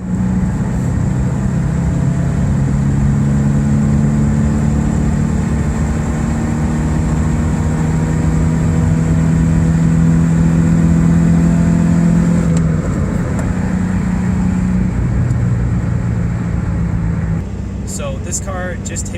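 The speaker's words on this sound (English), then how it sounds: "a mechanical noise from the engine bay that is just very pleasant and very even" A high-mileage GC Subaru Impreza engine runs smoothly, a loud, even mechanical hum with steady low tones throughout, shifting slightly in pitch before a faint clatter at the end.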